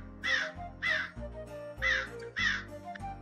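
A crow caws four times in a steady, evenly spaced series, loud and close, over a low sustained tonal background.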